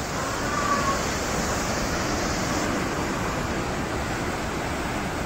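Fast water rushes through the open gates of the Boniyar reservoir dam near Baramulla, a loud, steady roar that holds unbroken from start to finish.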